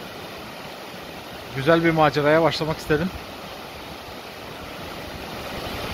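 Steady rushing water from a waterfall roars in the background throughout, while a person talks briefly in the middle.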